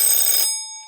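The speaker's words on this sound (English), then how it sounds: "Yeah, that's a very shrill alarm there." An antique alarm clock rings with a shrill, rapid metallic clatter for about half a second, then cuts off, leaving a thin fading tone.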